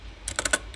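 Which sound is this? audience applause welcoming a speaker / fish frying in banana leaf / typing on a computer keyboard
typing on a computer keyboard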